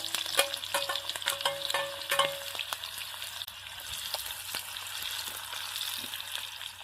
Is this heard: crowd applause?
no